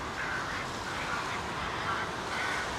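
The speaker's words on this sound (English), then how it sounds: "He's got the crow scarer out." A crow scarer at Heathrow Airport plays a bird distress call, a harsh honking, squawking cry repeating steadily over a broad airport background roar, moderately loud and distant.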